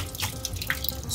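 Goat meat for curry is rinsed under a running kitchen tap, a steady close stream of water splashing and pattering onto the meat in a sink with no voices.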